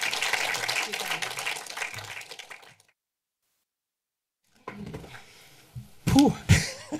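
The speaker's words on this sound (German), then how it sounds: "Und jetzt schon mal großen Applaus" An audience at a post-screening film talk claps in a dense, steady burst that fades out after a few seconds, followed by a pause and then nearby voices talking.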